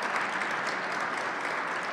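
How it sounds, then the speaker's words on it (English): An audience at a Three Kings celebration claps in dense, continuous applause, loud and steady throughout, with no voices standing out. "Let's give them a round of applause for all the hard work that they did put us on."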